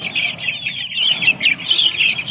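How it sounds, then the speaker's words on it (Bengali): A flock of Colombian Brahma hens on a Rajshahi farm clucks and chatters continuously nearby, overlapping calls rising and falling with a few brief wing flaps. "এই মুরগিগুলো আবার এক লোটে দেখা যাচ্ছে অনেকগুলি মুরগি আমার এখানে"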